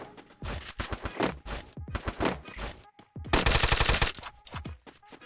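Rapid bursts of MP5 submachine gun fire in the Free Fire mobile game, a dense rattling volley of shots around the middle, with sharp single shots before and after, close and loud.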